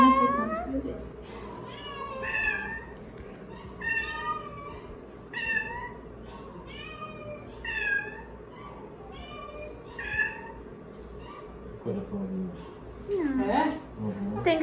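A pregnant cat at a veterinary clinic meows loudly and repeatedly in drawn-out, wailing cries, with people talking around it.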